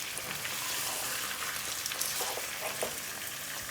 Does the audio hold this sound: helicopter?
no